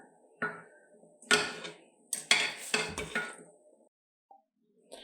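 Boiled green chillies tipped from a utensil into a grinder jar in a home kitchen, a few close, clattering clinks and knocks of metal and glass in quick succession, then quiet.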